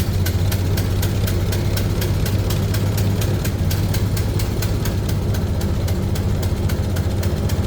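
A 1926 Ford Model T four-cylinder engine runs steadily at a low idle, with a loud, even low rumble and a regular ticking beat throughout, with no talking.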